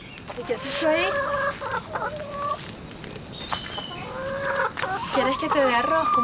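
Chickens clucking in a farmyard, several birds with repeated bursts of clucks and calls, fairly close and prominent, with some speech mixed in around them.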